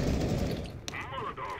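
Gunfire in Counter-Strike: Global Offensive, a loud dense burst of shots that trails off, with a player's voice shouting over it.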